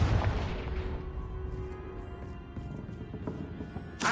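A Confringo blasting spell explodes in the video game Hogwarts Legacy. A loud, rumbling low burst opens the moment, then trails into a lingering game soundscape with a sharp crack near the end.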